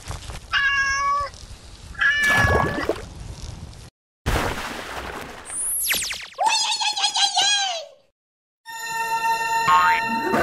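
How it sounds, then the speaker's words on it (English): A cat meows several times in short, bright, sliding calls, loud and close. Gaps of silence and other playful sound effects come between the meows. "Cat."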